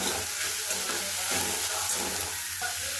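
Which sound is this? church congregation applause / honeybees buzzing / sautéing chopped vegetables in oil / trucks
sautéing chopped vegetables in oil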